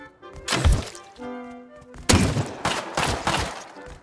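Gunfire in the survival video game Rust: a few loud, sharp shots in two bursts, with a blast near the start and another partway through, each trailing off before the next.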